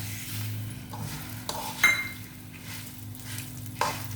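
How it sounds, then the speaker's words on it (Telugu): Urad dal and sesame seeds fry in a pan with a soft, steady sizzle, while a spoon stirs and scrapes the metal in several brief clinks and scrapes close by. "ఇప్పుడైతే మినపప్పు వేగిందండి, ఇంకా కొంచెం వేగాలి."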